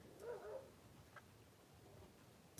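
A pet dog and neighboring dogs bark faintly and a long way off, with one brief bark burst, a soft whimper, and a few scattered yips over a quiet room.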